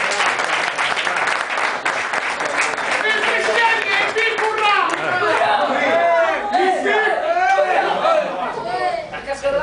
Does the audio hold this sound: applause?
yes